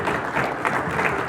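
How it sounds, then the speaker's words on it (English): Audience applause at a live evening event with board game personalities, a steady dense wash of clapping from a crowd filling the room, fairly loud and continuous without pause. "Give yourself a round of applause."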